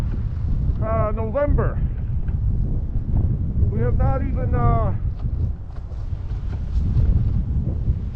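Strong wind gusts buffet the microphone on a snowy November day outside a Japanese garden, a steady low roar that continues while a person talks over it.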